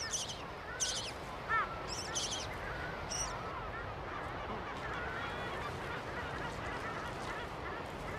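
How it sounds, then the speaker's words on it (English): A busy Mediterranean gull colony with parent birds coming and going, heard as scattered honking and squawking calls over a dense, constant wash of background noise, the cries fairly distant and blended together. "Gull colonies in the Mediterranean, as anywhere else in the world, are busy, noisy places full of activity as parent birds come and go"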